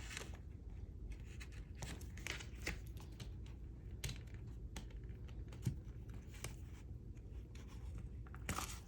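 Blade slicing through a 6x8 paper pad during a crafty haul unboxing, a run of quiet, irregular clicks and crisp scratches with scattered louder snaps, close by over a low room hum.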